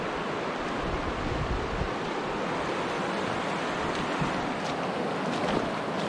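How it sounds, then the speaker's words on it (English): Cold, slippery Sulphur River near Grande Cache being waded on foot, with steady broadband rushing water and wind buffeting the microphone throughout, close and loud, no voices. "Sulphur River crossing."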